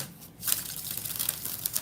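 Tarot cards are shuffled by hand, a quick crisp riffling and flicking that starts after a short quiet pause and runs on closely with no talk.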